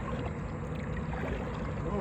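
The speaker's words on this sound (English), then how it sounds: "get you some real-time paddling over here to this first island" A kayak paddles across open water in July toward an island, giving a steady wash of water and wind noise with no distinct strokes standing out.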